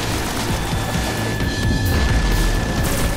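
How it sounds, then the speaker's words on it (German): A loud, sustained boom and crashing blast from an explosion in the video game Destiny fills the whole stretch with dense, roaring noise and no voices. "Und am Ende explodiert das Teil sogar noch."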